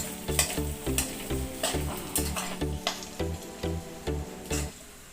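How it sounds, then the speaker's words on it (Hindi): Soaked sabudana being stirred in oil in a pan with a spatula, a steady sizzle under about a dozen regular scraping strokes, close and fairly loud, no talk. "मैं ये साबूदाना जो हमने भिगा के रखा था वो डाल दीजिए और इसी तरह से मिक्स कीजिए"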